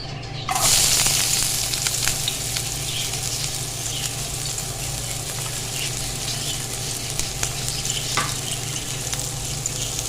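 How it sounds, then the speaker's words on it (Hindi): Finely chopped onion drops into hot oil in a pan and fries with a loud, steady sizzle, sharp at the start and then even and continuous, with faint stirring clicks and no voices. "तो साथ ही इसमें डाल देंगे एक बारीक कटा हुआ प्याज।"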